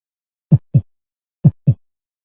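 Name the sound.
fast heartbeat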